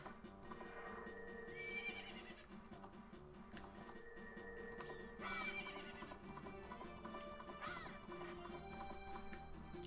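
A horse in the Zelda game Majora's Mask neighs twice with bright whinnies and trots with steady clip-clop hooves, heard over continuous game music and effects.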